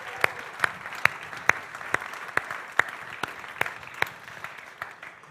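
Applause for graduates at a church graduation service, a small crowd clapping with several sharp, evenly spaced louder claps standing out above the scattered patter, moderately loud and without talk.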